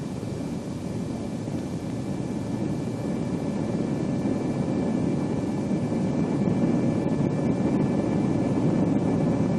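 A B-47 jet bomber on landing approach makes a steady, loud, unbroken engine roar with a faint high whine running through it, heard alone without talk.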